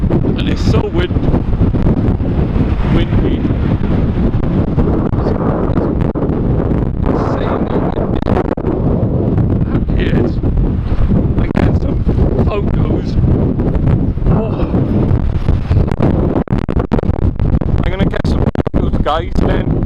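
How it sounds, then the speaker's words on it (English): Strong wind in a snowstorm in Abertillery, South Wales, buffets the microphone with a constant heavy roar and rumble, broken by sharper gusts throughout. "And it's so windy."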